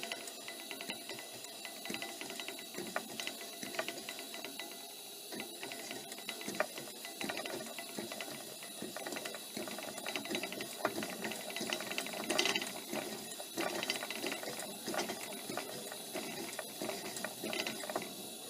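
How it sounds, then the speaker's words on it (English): A tip cleaner on an early Coleman 247 lantern is worked up and down, giving quick ratcheting mechanical clicks over the steady hiss of the lit burner throughout. "That's me moving the tip cleaner up and down."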